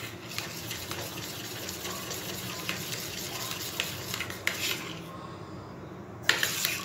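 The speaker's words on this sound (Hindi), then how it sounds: "और अब इसको हम अच्छे से मिक्स कर लेंगे।" A spoon stirs coloured ganache with a spoonful of neutral glaze, quiet wet mixing and soft scraping strokes with a few light taps against the bowl, close and fairly faint.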